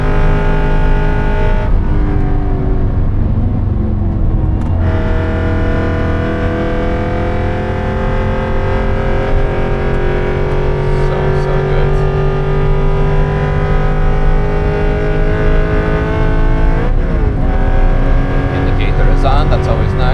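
Track-built Aston Martin Vantage V8 at the Nürburgring, heard from inside as the engine drones loudly and continuously, rising and falling through gear changes with a few sharp shifts and throttle blips.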